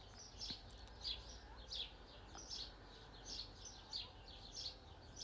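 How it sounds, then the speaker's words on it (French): Small birds chirp outdoors in short, repeated bursts of tweets at a steady rhythm, fairly faint and at a moderate distance, over a low background hum with no talking. "Je ne sais pas si vous entendez les petits oiseaux."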